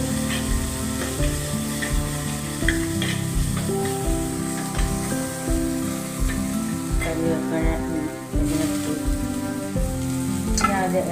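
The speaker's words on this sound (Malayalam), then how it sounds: "ഇഞ്ചിട്ട് അതൊന്ന് മൂത്ത് വരുമ്പോഴേക്ക് നമുക്ക് കരിവേപ്പിൻ്റെ ഇട്ട് കൊടുക്കണം" Ginger and curry leaves sizzle in hot oil in a pan for a special Kerala-style fish curry, a steady, close frying hiss with soft crackles throughout and no one talking.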